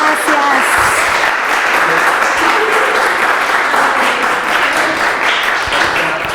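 An audience at a university talk claps in steady, dense applause that stays loud throughout without fading.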